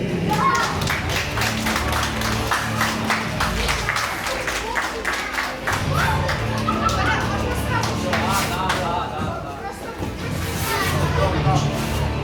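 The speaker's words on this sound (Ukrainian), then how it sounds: "Оплески." Applause fills a youth boxing venue, with steady clapping from a crowd that continues throughout and murmured voices mixed in.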